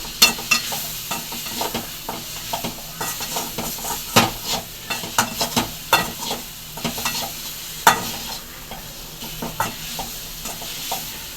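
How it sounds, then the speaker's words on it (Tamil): Masala spice powder fries in oil in a pan for channa masala, giving a continuous sizzle. A spoon stirs and scrapes against the pan in repeated irregular strokes, close and fairly loud. "இதை அப்படியே நல்லா வதக்கிடுவோம் நம்ம"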